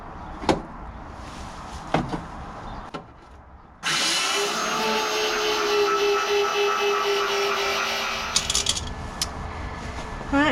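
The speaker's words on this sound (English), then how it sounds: "I do like my belt sander. It really gets into all these places." A belt sander cleans up the metal bodywork of a Rover P6, switching on after a few knocks and running as a steady loud whirring grind that then spins down.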